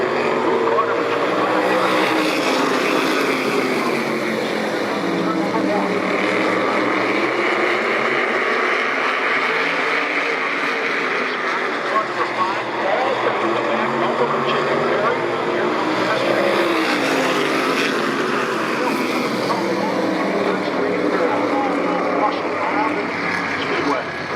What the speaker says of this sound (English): Ted Anderson owns that race car.